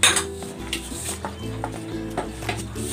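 A metal lid clanks onto a cooking pot of chicken with carrots and potatoes, several close metallic knocks and rattles over a low simmering hiss.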